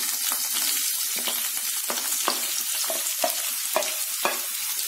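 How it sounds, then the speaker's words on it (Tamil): Finely chopped onions fry with curry leaves and cardamom in hot oil, producing a loud, steady sizzle with regular spatula scrapes about every half second, close by and without voices. "இது கூட நல்லா பொடியா கட் பண்ண 2 பெரிய வெங்காயம் சேர்த்துடலாம்"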